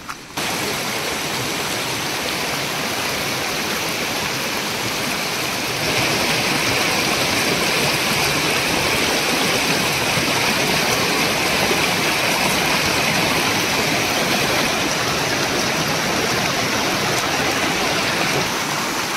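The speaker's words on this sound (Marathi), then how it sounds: "कालच्यापेक्षा थोडं जास्त पाणी आज ओढ्याला आलं आहे" A rain-swollen stream after a night of rain rushes steadily and loudly, a dense unbroken wash of flowing water that swells slightly partway through, with no voices.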